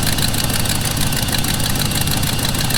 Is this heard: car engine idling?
yes